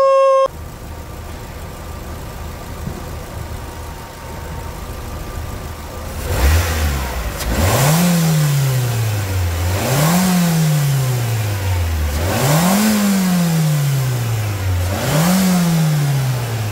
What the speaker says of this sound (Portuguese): acelera pra nós lá, Messias, por favor.